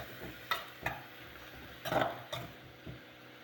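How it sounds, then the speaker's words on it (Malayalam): Broad beans stir-fried with turmeric and chili powder cook on a low flame, giving a quiet, faint sizzle under a handful of spaced spatula scrapes and taps against the pan. "ഇനി നമുക്ക് സിമ്മിലിട്ട് നല്ലതുപോലെ വേവിച്ചെടുക്കാം."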